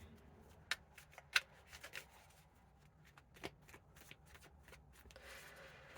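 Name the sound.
shuffling tarot cards to pull clarifiers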